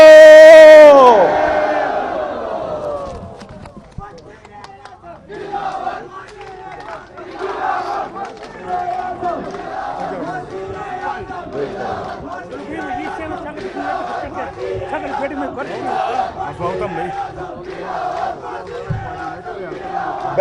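Political rally crowd in Gilgit-Baltistan chanting party slogans in rhythmic unison after a leader's call-and-response, preceded by a loud burst; repeated shouted phrases pulse steadily, massed voices moderately distant.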